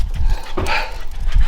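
A small dog gives one short, sharp yap or whimper near the middle, close by over a low rumbling background, with no talking.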